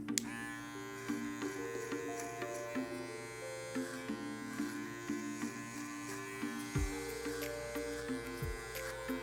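Electric hair clippers buzz continuously near the head, the steady drone shifting as the blades clear bulk hair upward during a burst fade haircut, with small pitch changes as the strokes vary.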